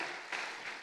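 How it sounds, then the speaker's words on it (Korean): Congregation clapping in thanks at a Korean prayer-retreat worship service at Osanri Prayer Mountain, a dense wash of applause swelling slightly in two bursts across under a second, with no voices over it. "우리 하나님께 영광의 감사 박수 한번 드리겠습니다"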